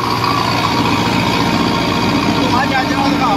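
A 75 hp Massey Ferguson 2635 tractor with a 12 ft rotavator attached runs close by, its engine giving a loud, continuous, even drone with a low throbbing hum and no pauses.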